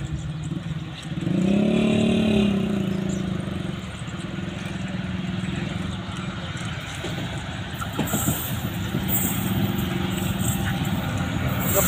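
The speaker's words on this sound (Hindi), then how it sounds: "ये ट्रेन भी आ गई।" Train pulling into a station as a goat cargo load waits for loading, its engine rumble and rolling noise swelling loud early and continuing steadily, with a brighter clattering stretch later; no voices are heard.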